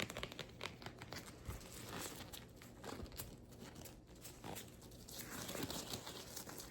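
Close, continuous crinkling and rustling of tight medical gloves being handled and stretched, with dense papery crackles throughout and no talking.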